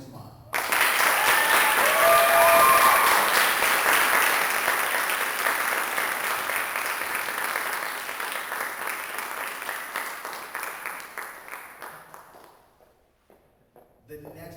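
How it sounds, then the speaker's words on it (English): An audience at a speech and debate showcase applauds loudly, a full burst of clapping that slowly thins and fades out over about twelve seconds. "Everybody give a round of applause to Natalie Guzman."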